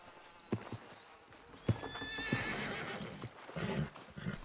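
A horse in Red Dead Redemption 2 whinnies in a long, rising-and-falling neigh, accompanied by scattered hoof clops and thumps nearby.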